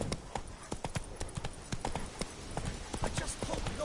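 Hooves of the horse Roach trotting in The Witcher 3, a steady quick clip-clop close by, fairly quiet, with faint low voices and ambience underneath.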